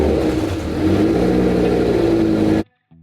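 A Lamborghini engine fitted with new used spark plugs starts and revs loudly for a couple of seconds up close, then cuts off abruptly into silence.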